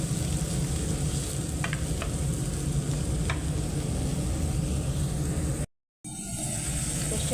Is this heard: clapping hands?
no